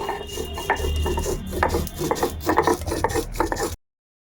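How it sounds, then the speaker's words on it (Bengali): Spices are ground on a grinding stone with steady back-and-forth rasping strokes, close and continuous, rubbing and scraping in an uneven rhythm for several seconds before stopping abruptly. "তো চলো এখন আমি মশলাটা কিন্তু বেটে নেব"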